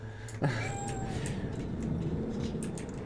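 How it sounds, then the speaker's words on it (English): A single cat meow in the video game Cyberpunk 2077: Phantom Liberty, a short rising call near the start over a low ambient game hum, then quiet background. "Where is Cat? Where is Kitty? Meow."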